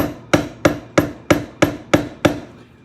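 A hammer strikes thick saddle skirting leather, close to a quarter inch, during tooling: seven sharp, loud, evenly spaced blows about a third of a second apart, each ringing briefly before the next, with no voices.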